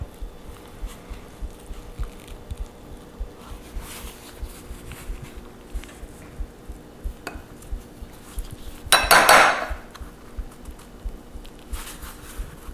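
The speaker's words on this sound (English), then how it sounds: "use a spoon to sort of gently scoop out the potato" A spoon scrapes and taps around a baked potato skin as the flesh is scooped out, giving soft repeated knocks and one louder burst of scraping near the end.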